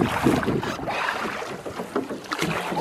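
Oars working a rowboat on open water, with splashing, water churn and wind buffeting the microphone, loud and close throughout with rhythmic surges of the strokes.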